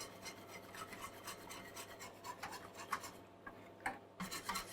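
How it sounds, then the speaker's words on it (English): A utensil stirs and scrapes food in a pan over medium heat, making steady repeated rasping strokes close by, with no talking. "And you simply keep stirring."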